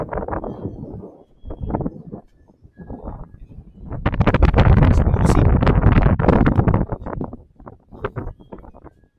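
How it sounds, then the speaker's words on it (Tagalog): Strong wind roars against the microphone, a loud sustained blast in the middle flanked by shorter gusts. "lakas ng hangin"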